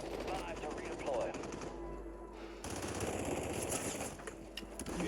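Gunfire from the battle royale shooter Call of Duty Warzone, dense and continuous rattling bursts with talk and game voice-over layered through the clip.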